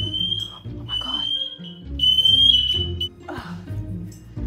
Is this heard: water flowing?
no